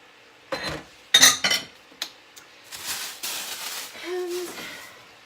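Potatoes and tomatoes dropped into a soup pot while making cabbage soup, giving a few short clatters and thuds of food and utensils against the pot, close and fairly loud, with quieter rustling between.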